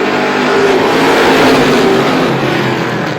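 Race cars roar around the Star Speedway oval during a feature race, a loud, continuous engine drone from close by with no break across the few seconds.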